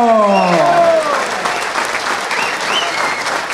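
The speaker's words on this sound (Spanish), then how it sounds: "¡Fuerte aplauso!" A standing audience of mayors and deputies at a presidential meeting breaks into loud, sustained applause; a raised voice rings out over the clapping at the start, then the dense hand-clapping carries on strongly to the end.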